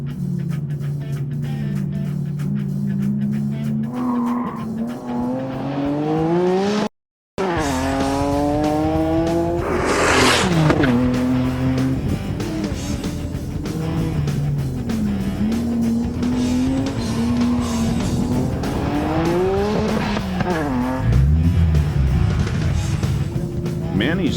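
A right-hand drive Supra race car laps a track, its engine climbing and falling through repeated gear changes and corners with tire squeal, briefly cut by a short gap, while a voice talks over it.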